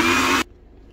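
A kitchen grinder blending coriander chutney with a little water into paste roars loudly for a split second, then cuts off abruptly into near silence.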